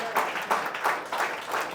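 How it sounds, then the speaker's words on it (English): Scattered audience clapping in uneven bursts, moderately loud, with a few pulses standing out, brief and without speech. "let's give her one massive round of applause"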